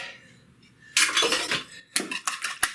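Egg yolks being whisked in a bowl, heard as a burst of scraping, clinking strokes followed by several sharper taps against the bowl, close and fairly loud after a quiet start.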